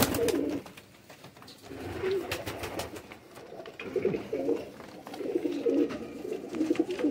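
Pigeons coo in soft, repeated low bursts, close by, with brief rustles and clicks between the calls; no talking.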